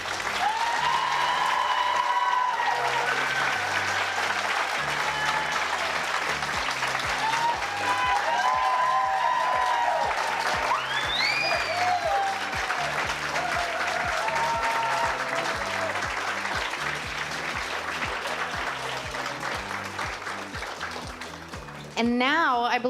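Sustained, loud audience applause fills a community coronation ceremony for the 2025-2026 Eagan Funfest Ambassador family, with tonal sounds and faint voices woven through the clapping before it cuts off near the end.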